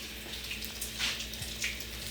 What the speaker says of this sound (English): I add just a little bit of water to the lid.